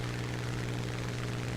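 A Spitfire fighter's piston engine in a combat flight video game drones steadily, a continuous low hum with a strong steady tone throughout the short stretch, with no talk.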